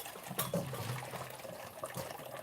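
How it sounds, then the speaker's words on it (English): Water is poured into two pots to about half an inch for double boiling, a soft, continuous trickling splash, fairly faint and close, with no talking over it. "So I've just put about a half an inch of water in each of these 2 pots."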